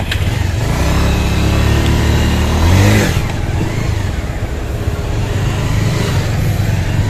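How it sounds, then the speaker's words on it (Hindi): Dense road traffic heard from a Bajaj Pulsar 150 motorbike in a crowded jam, a loud steady engine drone with revving and passing vehicles throughout, no talk. "देखो कितना ज़्यादा ट्रैफिक लगा हुआ है"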